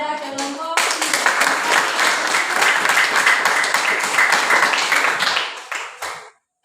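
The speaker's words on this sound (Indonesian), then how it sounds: "kita berikan aplaus kepada kelompok 3" A classroom group applauds group 3 after a chemistry presentation on calorimetry, a dense burst of clapping from many hands that holds steady for about five seconds, then thins and fades out.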